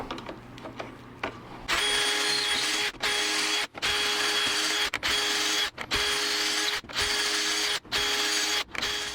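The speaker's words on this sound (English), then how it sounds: "and I drill those, it should be okay." A power drill bores holes in cedar wood in several bursts of a few seconds each, whining steadily with brief pauses between, loud and close.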